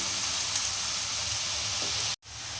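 Onions frying in a pan with a steady, dense sizzle that keeps going without a break, stops abruptly for an instant near the end, then resumes.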